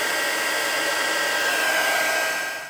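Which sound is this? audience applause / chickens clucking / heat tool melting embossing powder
heat tool melting embossing powder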